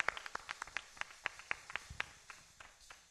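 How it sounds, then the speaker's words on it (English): Scattered applause from a conference plenary audience welcoming a panel speaker, distinct individual hand claps ringing out in an uneven rhythm, fairly faint and thinning toward the end. "A big round of applause for"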